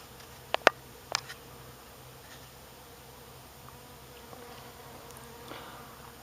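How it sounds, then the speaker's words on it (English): A bee at work on apple blossom, collecting nectar on an apple tree; a few short, sharp buzzing bursts near the start, then the insect's sound fades to faint, scattered traces over quiet outdoor background. "I'll get a look at that bee working."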